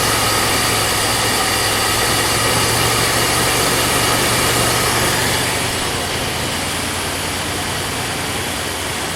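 A 1996 Chevy 1500 pickup truck engine runs at a steady idle nearby, a continuous rumbling drone with a faint shift in tone partway through and no talking.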